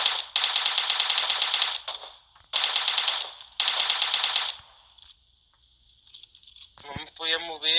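Three long bursts of rapid automatic gunfire in PUBG Mobile with short gaps between them, followed by a quieter stretch and brief game sound effects at the end.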